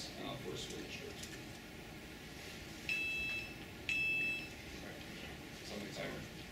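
A timer goes off during a school district budget hearing, giving two short electronic beeps, faint and distant in the room's quiet background noise.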